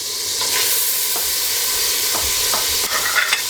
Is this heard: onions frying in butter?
yes